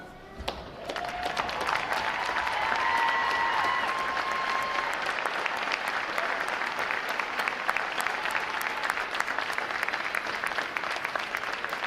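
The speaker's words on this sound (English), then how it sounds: "All our veterans in the room. We give you a round of applause." Veterans in the room applauded at a U.S. Navy boot camp graduation ceremony, a large crowd clapping loudly and continuously, rising quickly and holding steady to the end.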